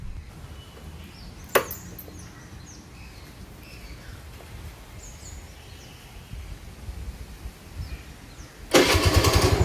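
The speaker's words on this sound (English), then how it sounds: "Yes, it starts the engine." A scooter engine, powered by a UPS battery in place of its old battery, catches on the self-starter near the end and settles into a loud, steady running roar after a quiet stretch with a single sharp click earlier.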